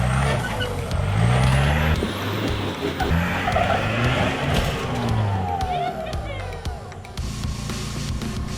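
Car tyres scrubbing and skidding on a track at a Glasshouse drift or motorsport event, with a loud continuous screech over revving engines and crowd noise, and voices speaking throughout.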